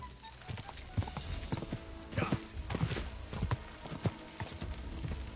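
A horse in Kingdom Come Deliverance II clip-clops steadily across several seconds, its hoofbeats close and distinct and broken by a few louder thuds, with a faint neigh.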